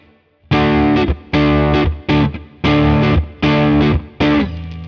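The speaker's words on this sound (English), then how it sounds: "then we'll put some distortion on it" A travel guitar played through distortion with slight edge-of-breakup grit, strumming six loud chord bursts in a steady rhythm, each held briefly before a short choked gap, close and alone.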